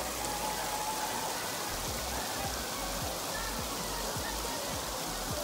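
Heavy rain pours steadily along the trail to Komoldoho waterfall, a dense, loud hiss with no break, while low rumbling thuds recur beneath it.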